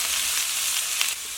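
Chayote going into hot oil with fried ginger for a stir-fry, giving a brief, even, close sizzle with a faint crackle near the end.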